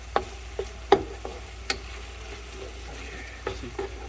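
Spices fry in a pot for chicken pilao: soft sizzling with a handful of sharp scraping stirs and clinks spaced through the short stretch, fairly quiet and without talk.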